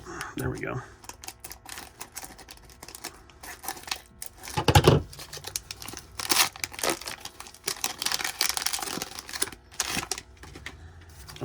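A football trading card pack wrapper is cut and torn open with crinkling, rustling foil and sharp tearing bursts, close up, while a voice speaks briefly.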